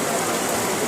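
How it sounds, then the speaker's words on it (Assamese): Heavy rain pours steadily and loudly at a roadside dharamshala on a walking pilgrimage, a dense, unbroken hiss of drops filling the whole short stretch with no voices. "পুৰা বৰষুণ মাৰি দিছে"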